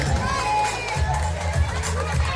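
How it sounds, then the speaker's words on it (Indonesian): A crowd at a zoo animal education show applauds and cheers steadily, with children shouting among the audience and a presenter's voice carrying over the noise. "Kasih tepuk tangan dulu dong"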